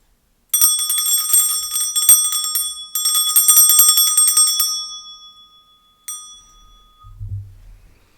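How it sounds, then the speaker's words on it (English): A small bright bell is struck a few times before a tarot reading, each ring sustaining and fading out, followed by a low faint rustle near the end. "I'm going to start by clearing the energy with my bell."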